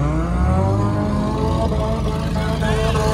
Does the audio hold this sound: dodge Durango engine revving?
yes